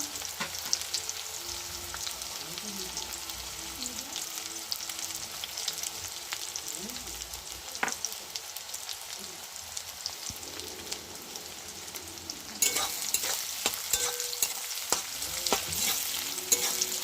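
Onions fry in a wok with a continuous crackling sizzle while being stirred, with occasional scraping; the hiss grows louder and brighter toward the end, heard up close with no talking.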